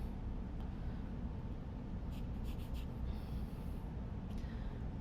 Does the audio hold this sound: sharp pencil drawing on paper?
yes